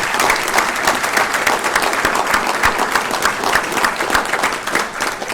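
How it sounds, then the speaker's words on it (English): Steady applause from an audience at a board of trustees meeting, dense even clapping held at a constant level throughout without pause. "I would ask that everyone provide you with a round of applause."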